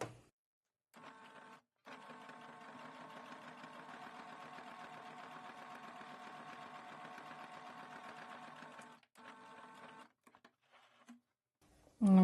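A sewing machine stitching a flat-felled seam, running in a steady buzzing whir for about seven seconds after a brief start, then stopping and restarting in short bursts, close and quiet with no talk.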